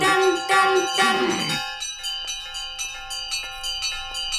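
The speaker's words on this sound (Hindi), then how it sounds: "ये घंटियां कहाँ से बज रही है?" Small bells ring in a rapid, repeated pattern after a burst of louder mixed sound, their bright metallic tones sustaining and overlapping at a steady pace, close and clear.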